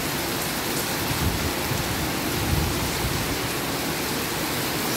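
Steady, loud rain falls in the Philippines as a dense, even hiss of drops on surfaces that carries on without a break, with no voices.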